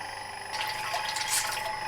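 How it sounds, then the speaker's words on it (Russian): Liquid enzyme poured from a syringe into rice mash for brewing: a soft watery trickle and splashing that swells midway, fairly quiet, with no voices. "И просто выливаем ее в нашу кашу, в наше сусло."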